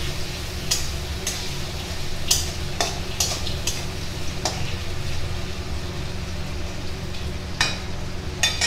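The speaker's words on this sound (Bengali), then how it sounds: "ভাজা হতে থাকুক, তেজপাতা লঙ্কাটা দিয়ে দেবো" Garlic frying in a pan over lowered heat for chicken kosha, a continuous close sizzle broken by sharp clicks and taps of stirring.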